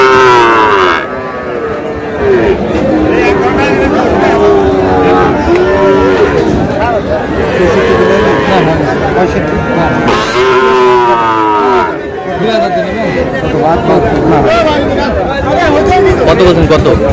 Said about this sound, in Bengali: শাহিওয়ালের ষাঁড়।